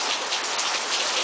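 Steady rain falls in a dense, even hiss of countless drops, constant and fairly close, with no voices.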